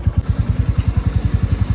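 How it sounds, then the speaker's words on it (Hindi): Motorcycle engine pulling away, heard as a close, steady low thumping beat with even, rapid pulses and a faint rattle, no voices. "अब निकलता हूँ डायरेक्ट बाइक"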